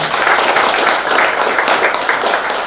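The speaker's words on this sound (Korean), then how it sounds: "여기서 박수 한번 보내주시기 바랍니다." Dense, loud applause from a large audience at an exhibition opening ceremony, a continuous close wash of overlapping claps with no gaps and no talking.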